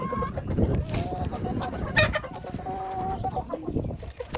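Several chickens cluck and squawk nearby on a poultry farm, a busy, overlapping chatter of hens with no talking.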